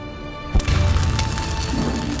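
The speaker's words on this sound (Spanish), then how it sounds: "explotó a través y por encima del agua" A homemade incendiary chemical mixture bursts on impact with a ship, giving one sudden, loud, close crack that gives way to a sustained roaring, crackling rumble.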